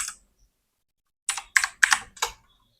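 A computer keyboard is typed on in a short quick burst of several crisp keystrokes after a stretch of near silence.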